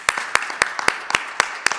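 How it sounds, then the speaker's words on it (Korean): Sparse clapping from a small group of church staff at a Sunday worship service, about seven sharp claps spaced roughly evenly, close and moderately loud with no voices. "박수를 다시 한번 힘차게 한번 쳐줬으면 좋겠습니다"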